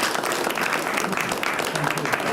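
Audience clapping at a planning commission public meeting, a steady patter of many hands clapping throughout, with voices talking over it.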